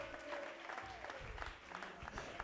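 A worship congregation claps and cheers continuously at a Sunday church service, a faint, steady wash of applause with crowd voices mixed in and no distinct talk.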